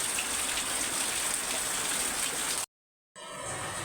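Heavy steady rain during a typhoon in Pampanga, a dense hissing downpour that cuts out briefly and then resumes.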